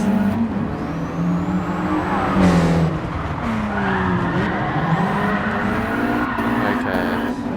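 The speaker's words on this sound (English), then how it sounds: "I'm not used to drifting this track." A Nissan 200SX S13 drifts aggressively on the Nordschleife in Gran Turismo Sport VR, its tires squealing in long, wavering high tones over a steady, loud engine drone, with one louder skid burst midway.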